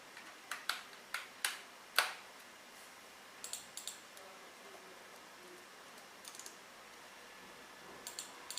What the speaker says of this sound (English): I will type in my password.